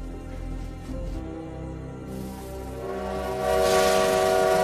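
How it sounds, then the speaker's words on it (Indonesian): A train rumbles along with a low, steady drone, and a sustained horn-like whistle rises toward the end, loud and close. "Dan dari kejauhan tampak rombongan Bandit Sang mengejar kereta api."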